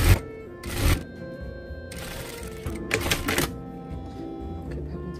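A sewing machine stitches a lined flap pocket in several short, close bursts of rapid mechanical clatter separated by quieter pauses, with no talking.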